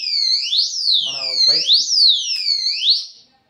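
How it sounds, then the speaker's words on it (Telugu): Motorcycle disc lock alarm wailing loudly and close, a continuous siren sweeping up and down in repeated cycles, briefly overlapped by a voice, then stopping abruptly. "ఇది డిస్క్ దగ్గర వేసుకుంటే లాక్ అలారం టైప్ ఇది"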